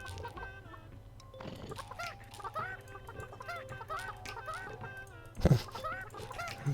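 Several chickens cluck and squawk in an overlapping chorus, moderately close, with a louder burst of clucking near the end; no one speaks.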